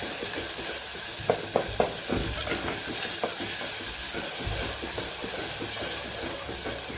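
Garlic chutney sizzles loudly as it is stirred into a chana and potato curry in a hot pan, a steady frying hiss broken by a few sharp scraping strokes of the spoon.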